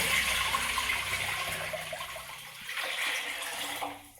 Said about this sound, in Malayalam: നമുക്കിതിലേക്ക് ഇതാ എടുത്ത് വെച്ച വെള്ളം.